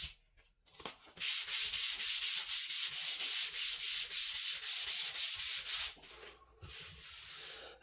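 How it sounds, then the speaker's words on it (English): Sandpaper is rubbed back and forth along the edge of a wooden cutting board, making a run of quick, even, rhythmic scratching strokes up close before easing into lighter, softer rubbing. "just run the sandpaper through that top edge"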